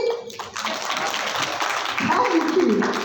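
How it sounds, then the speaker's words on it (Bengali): An audience claps at a film trailer launch for the Bengali film Amaar Lobongolata. Dense applause rises after a voice speaks briefly and carries on steadily to the end. "আপনারা সবাই হাততালি দিন"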